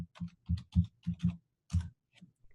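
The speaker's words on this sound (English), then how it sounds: "you can type in the words buy-sell." Keys on a computer keyboard tapped in short bursts, about eight clustered clicks over a couple of seconds with brief pauses between, close and moderately loud with no talking.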